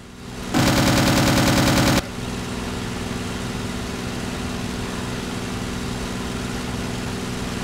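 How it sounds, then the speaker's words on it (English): Aircraft guns in the Aces High II combat game fire one sustained rapid burst at a Yak fighter for about a second and a half. A loud, steady engine drone carries on alone afterward. "I start putting rounds into him, trying to finish him off before anyone shows up to help him"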